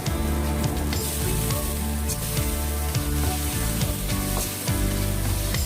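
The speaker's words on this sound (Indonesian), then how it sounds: "kemudian masukkan daging. Tumis setengah matang." Meat stir-frying in a hot pan, a steady loud sizzle with intermittent scraping stirs throughout, no voices.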